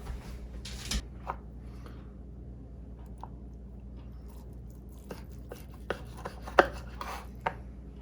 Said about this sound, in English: So let's cut in and see what these things look like.